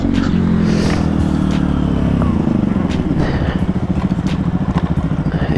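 KTM Duke 125 motorcycle riding straight ahead: a steady loud engine drone from onboard, dropping partway through into a rougher, pulsing note, with wind rumble throughout.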